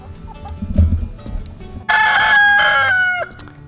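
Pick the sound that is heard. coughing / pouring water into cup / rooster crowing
rooster crowing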